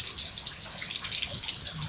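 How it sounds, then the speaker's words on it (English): Flood water rushing across a flooded front yard, a steady hissing gush that stays close and fairly even throughout, with no talk over it. "that's the flood water."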